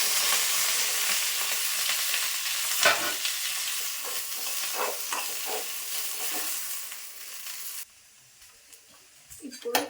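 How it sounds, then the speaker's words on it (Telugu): Okra fries in ghee with a loud, hissing sizzle and occasional stirring scrapes, the sizzle fading abruptly near the end before a brief clatter. "సపరేట్గా బెండకాయని ఫ్రై చేస్తున్నాం కొంచెం గీ వేస్తున్నాం"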